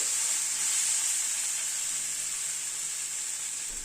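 Spices fry in a pan for a mourola fish chorchori, giving a steady, close, bright sizzle that hisses continuously while being stirred, with no talking.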